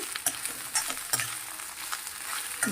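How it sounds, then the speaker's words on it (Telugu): Vegetables for veg noodles stir-fry hard on a high flame, with brisk scraping and clacking strokes against the pan over a constant close sizzle, no one speaking. "అలా ఒక 2 మినిట్స్ ఫ్రై చేయాలండి. మూత కుక్ చేయకూడదు, ఇలానే ఫ్రై చేయాలి. హై ఫ్లేమ్లో పెట్టాలి."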